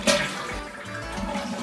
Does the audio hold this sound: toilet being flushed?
yes